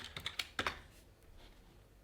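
A password typed on a computer keyboard: a quick run of about six crisp, close key clicks in the first second, then near silence with one last faint tap at the end.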